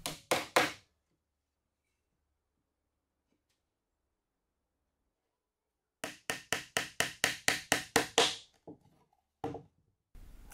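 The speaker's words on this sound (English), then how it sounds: "To hold it all in place, I'm just going to tap in a few pin nails." A small hammer taps pin nails into pine woodwork, giving a quick burst of three sharp knocks, then silence, then a rapid series of about ten taps and a few last hits.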